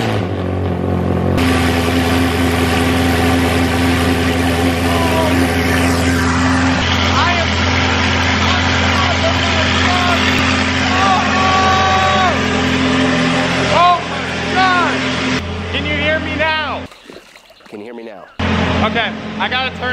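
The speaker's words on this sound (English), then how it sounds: "I hope you guys enjoyed that sneak preview of the new F430 exhaust" A Ferrari F430 fitted with a new aftermarket exhaust fires up and settles into a loud, steady idle close by, its deep rumble running throughout before briefly cutting out near the end, with someone talking over it.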